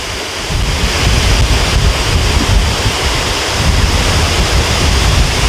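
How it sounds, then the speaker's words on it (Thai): Water pours out of an opened sluice gate into the Lam Nam Kam river in Sakon Nakhon, Thailand, a steady, loud roaring rush that fills the whole clip, with some wind buffeting the microphone and no talking. "โอ้โห น้ำ ปล่อยน้ำนะครับ"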